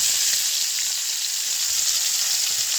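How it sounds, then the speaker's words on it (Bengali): Fish fries in hot oil with a loud, steady sizzle that crackles evenly throughout without pause. "এবার আমি মাছগুলোকে ভেজে নেব"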